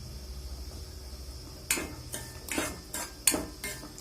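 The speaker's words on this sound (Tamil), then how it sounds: "நல்லா ஒரு 3 நிமிஷத்துக்கு நல்லா ஃப்ரை பண்ணிக்கலாம்" Wheat rava toasting in ghee in a pan, heard as a quiet stretch followed by a run of clear metallic scrapes and taps of a spoon against the pan, close and irregular, with no talking.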